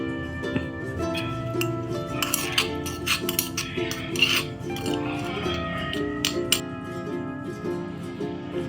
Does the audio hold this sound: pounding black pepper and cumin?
yes